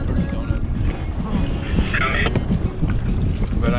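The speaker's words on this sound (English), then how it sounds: "I have the engine on, pushing us forward." A small fishing boat on San Diego Bay runs its engine to push forward, a low steady motor rumble mixed with water slosh and gusty wind, with faint voices in the background.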